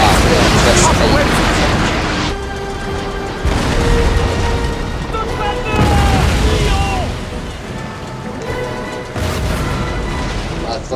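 Cannon broadsides from sailing warships in a Napoleon: Total War naval battle between Spanish and French fleets, heavy booming volleys rolling in repeated bursts over a dense battle din, with a voice talking throughout.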